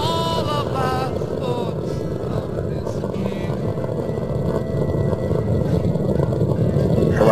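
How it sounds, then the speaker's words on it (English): Three liquid-fuel main engines of the space shuttle Columbia roar during launch from Kennedy Space Center, a dense, constant rumbling thunder that stays loud across the whole stretch. "the 3 liquid fuel main engines beginning to throttle back in a 3-step fashion"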